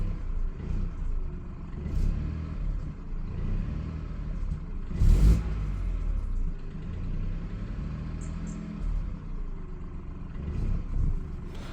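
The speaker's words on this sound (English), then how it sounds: "Let's just rev it." A BMW X2 engine revved while parked, a low rumbling run with a few swells and one sharp louder burst midway, close and steady with no talk.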